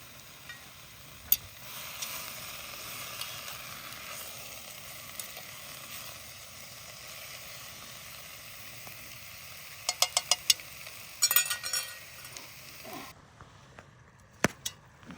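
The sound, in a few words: meat and onions sizzling while frying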